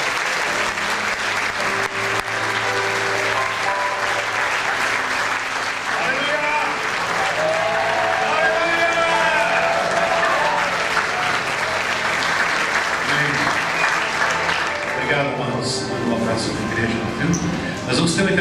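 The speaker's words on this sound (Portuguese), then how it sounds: "Dá um grande aplauso ao Senhor." A church congregation applauds at length during a family worship service, loud continuous clapping with cheering voices and shouts rising over it and some speech near the end.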